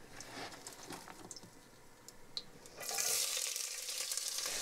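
Onion going into hot oil with cumin seeds, quiet crackling and stirring at first, then a sudden brighter, louder sizzle as it hits the pan, close and without talk.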